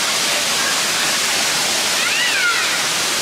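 A waterfall roars on a hiking trail, a loud, constant broadband rush close by, with a faint cat-like meow rising briefly over it.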